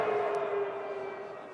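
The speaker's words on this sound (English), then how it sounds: "The siren's gone for the end of the game" A siren sounds at the close of an under-85kg club rugby final, one steady wailing tone held loud for the whole moment with faint crowd noise beneath it.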